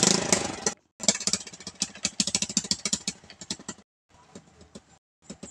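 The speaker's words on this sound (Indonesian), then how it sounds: "di sini aku mau pindahin motor dulu" A motorcycle engine runs with an uneven, rapid chugging idle while the bike is moved out of a house terrace, cutting out briefly, then resuming more faintly with irregular puttering bursts.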